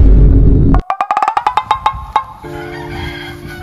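Rooster crowing at close range, a loud drawn-out call broken into a quick series of pulses, then fading into low farmyard background noise.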